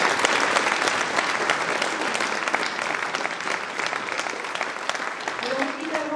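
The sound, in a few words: audience applause at New Year's greetings ceremony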